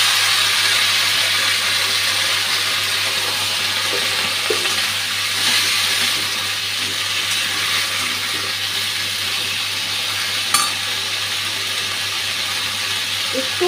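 Mukhi kochu (taro) frying in hot oil, giving a loud, steady, even sizzle that holds throughout, broken by one sharp tap of a utensil near the end.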